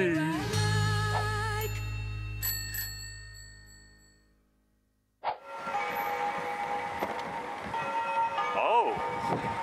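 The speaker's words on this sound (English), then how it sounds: "And the bells are ringing." Bells ring at a wedding, a bright chiming burst that fades into quiet, followed by a busier outdoor scene with faint ringing and voices in the background.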